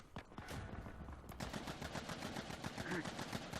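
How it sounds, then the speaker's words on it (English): Rapid automatic gunfire in Uncharted 4 multiplayer, dense fast bursts of shots running almost continuously after a brief opening pop, moderately loud with no clear talk. "210 bullets. I didn't realize the gun could even hold that much."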